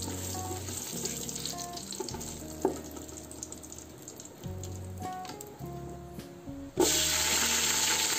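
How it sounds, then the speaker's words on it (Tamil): Whole cinnamon, cloves, cardamom and a bay leaf fry in hot oil for an egg curry, giving a steady soft sizzle with occasional stirring scrapes and clinks, close by and without speech. "அதில் பட்டை கிராம்பு, ஏலக்காய், ஒரு பிரிஞ்சி இலை, இதை வந்து நம்ம ஆயிலில் பொரிய விடலாம்."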